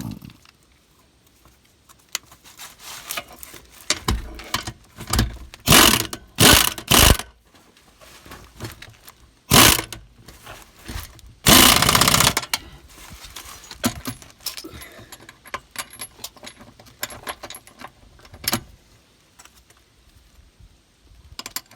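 Bolts on a cargo trailer axle lift kit with Lippert lift spacers being tightened, heard as irregular bursts of ratcheting and clattering tool noise, some loud and sustained, with quiet gaps between them.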